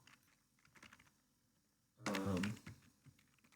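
Faint computer keyboard keystrokes while typing code, soft scattered clicks over low room hiss, then a brief louder burst of sound about two seconds in before the quiet tapping resumes.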